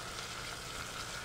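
Slices of bacon cook low and slow in a pan, producing a soft, steady hiss of frying fat with no distinct pops and no voices.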